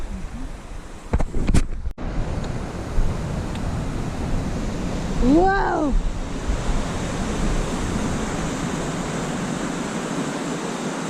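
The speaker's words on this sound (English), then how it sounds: "They're saying there hasn't been this much water flowing through Yosemite in over 50 years." High spring flow of Yosemite's rivers roars as loud, continuous rushing water with wind buffeting the microphone, and a person briefly exclaims early on.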